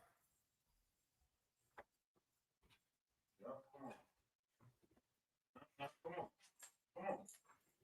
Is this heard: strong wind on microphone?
no